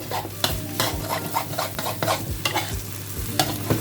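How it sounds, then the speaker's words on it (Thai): Close, rhythmic scraping and clanking of a spatula against a wok while stir-frying wide rice noodles (pad see ew), repeated every half second or so over a steady sizzle. "เอาด้ามเตาหลิวาลขูดกระทะไปเรื่อยๆครับ"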